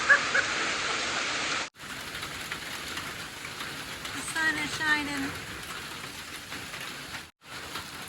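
Steady rain drumming from a fast-moving storm, heard from inside a trail shelter on a long-distance hike; a broad constant hiss fills the clip, with a voice speaking briefly over it near the start.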